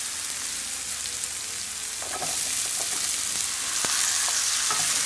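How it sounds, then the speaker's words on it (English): Onions and potatoes fry in a pan over medium to low heat for a tuna samosa filling, giving a steady close sizzle with scraping stir sounds and clinks that grow a little louder halfway through. "Go and add your potatoes to your mix."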